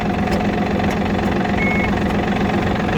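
A Yanmar F-200 Japanese mini tractor engine runs at a steady idle, close and loud, with an even low chugging rhythm and no pauses.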